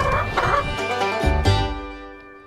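Backyard chickens cluck in a dense, busy chatter before a rooster lets out a loud, close crow that trails off, with no voices present.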